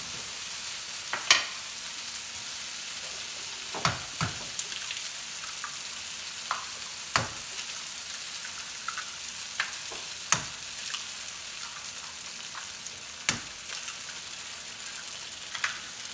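Eggs cooking in a pan over stewed ingredients, a quiet steady sizzle with sparse, irregular taps and scrapes of a utensil against the pan, close by and free of speech.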